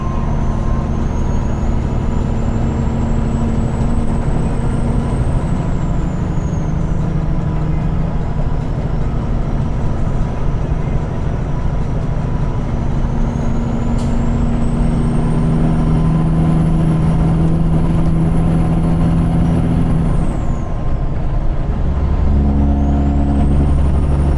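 Semi truck with an 18-speed twin-stick transmission driving at night on an empty road, a steady loud engine drone with pitch shifts as gears change and a high whine rising and falling throughout.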